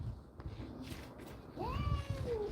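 A cat meows loudly close by, with a rising then falling drawn-out cry over a steady low background rumble.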